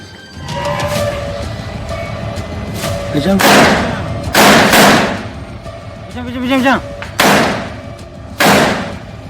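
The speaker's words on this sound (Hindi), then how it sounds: "खूब अंधेरा, गोलियों की तड़तड़ाहट, बारूदी गंध।" Rifle fire crackles in a dark night firefight in Gwadar, Balochistan: several loud, sharp reports and short bursts spaced over the span, with echoing tails and a rumbling background between shots.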